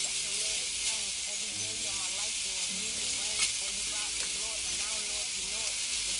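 Onions and peppers sizzle steadily in a hot pan on the stove, a constant bright frying hiss with faint stirring clinks, while a voice speaks quietly underneath.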